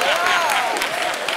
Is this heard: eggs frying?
no